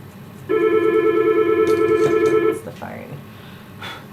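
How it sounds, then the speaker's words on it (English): A telephone rings with one steady, loud electronic trill lasting about two seconds indoors at a dog-grooming salon, followed by a brief bit of voice and quiet room sound. "I'm going to put you on a break while I go answer this phone real quick"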